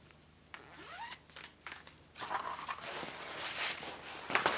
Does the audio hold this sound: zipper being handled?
yes